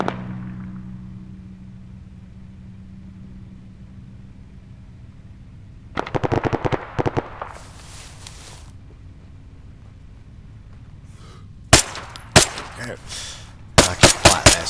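Suppressed VSS Vintorez rifle fired in ARMA 3, heard as quiet clusters of muffled, snappy shots in short bursts separated by low ambient hum, with sharper isolated cracks toward the end.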